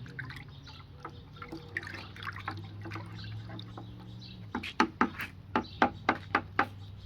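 Homemade liquid fertilizer mixed with ammonium sulfate is stirred in a container outdoors, with a soft watery background giving way to a quick run of sharp, evenly spaced knocks and splashes near the end.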